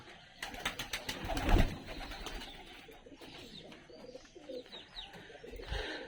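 Bengali pigeons coo softly in a busy loft, with scattered wing flutters and shuffling noises throughout; no one speaks.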